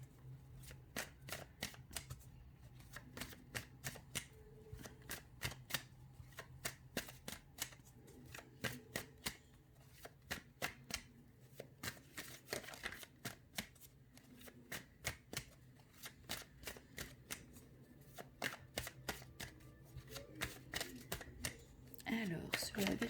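Oracle cards are shuffled by hand over a long stretch, with many quick soft riffling slaps in irregular bursts, fairly quiet and close, with someone speaking over them at times.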